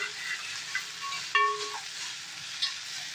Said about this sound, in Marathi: आता त्या मिरच्या भाजता आहेत